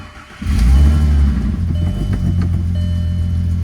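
Rebuilt VW GTI VR6 engine with a new exhaust cranks and catches, revving briefly to a deep, loud roar before settling into a steady, throaty idle close by.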